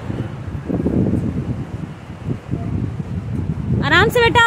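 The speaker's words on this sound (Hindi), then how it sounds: "बहुत हवा चल रही है ना" Strong wind buffets the microphone during a boat ride, a loud, steady low rumble that swells and dips throughout, with a voice briefly speaking at the very end.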